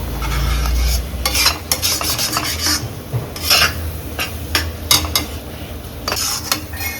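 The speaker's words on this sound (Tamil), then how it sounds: "கொஞ்சம் நல்லா ஃப்ரை பண்ண ஸ்மெல் போகிற வரைக்கும் ஃப்ரை பண்ணிவிட்டு" Masala for a spicy Karnataka-style chicken gravy fries in oil, with a steady sizzle under repeated scraping and clinking stirs of a spoon against the pan, loud and close with no talking.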